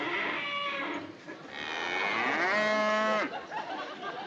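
A cow moos loudly and close by, one long drawn-out, wavering call with a shorter lowing sound before it, in a comedy TV scene.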